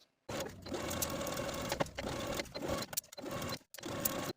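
A sewing machine edge-stitches along a skort seam in several steady, close whirring runs, broken by brief stops where the stitching is backstitched and restarted.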